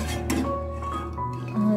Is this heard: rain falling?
no